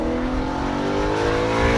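Audi RS5 B8.5 from 2015 with its 4.2-litre naturally aspirated V8 droning steadily at sustained revs, a close, loud, continuous engine tone with no pauses across the short stretch.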